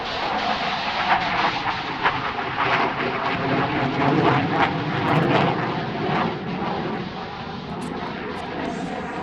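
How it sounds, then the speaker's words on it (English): HAL Tejas delta-wing fighter jet flying a maximum-rate turn at the Aero India 2019 airshow: a loud, sustained broadband jet roar that swells and fades slightly, with faint background noise throughout. "Tejas is now demonstrating the maximum straight turn capability of the aircraft."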